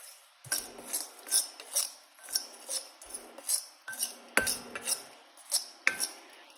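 A utensil scrapes and stirs roasted ingredients in a hot pan with the heat switched off, a near, steady run of repeated metallic scrapes and clinks with no talk.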